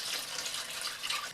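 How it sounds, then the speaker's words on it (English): Water is poured steadily into a tray beneath tomato cuttings, a close, continuous splashing trickle with no pauses. "I'm just going to pour it into the tray and let it wick up from the bottom."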